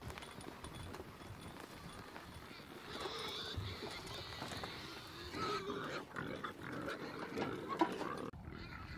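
Pigs grunt and snuffle amid a noisy, crowded homestead pen as they are moved along, with hooves shuffling and clattering and a constant rough background din.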